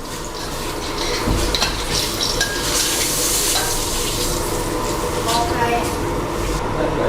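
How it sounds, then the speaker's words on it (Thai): Fish bones from a sea bass fry in hot oil with a dense, steady sizzle and crackle close by. A spatula scrapes and stirs against the pan throughout. "นำก้างลงมาทอดต่อนะครับ"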